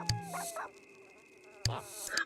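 A dog in The Sims 1 video game makes two short barking bursts with whimpering, synthetic game tones underneath, heard close and clear.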